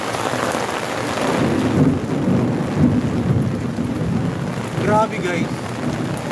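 Heavy rain roars steadily on a street with low rumbles of thunder rolling underneath, loud and close, while someone speaks briefly over it.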